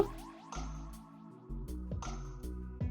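Water is poured into thin bottle gourd dosa batter in a kitchen, making close, soft wet drips and splashes in two short bursts, with no talking.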